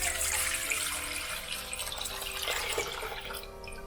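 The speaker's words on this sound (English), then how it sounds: "I'm just gonna go ahead and pour this in this bowl." Beef broth for a corned beef and cabbage soup poured from a measuring container into a bowl, a close, steady splashing stream of liquid running unbroken for several seconds.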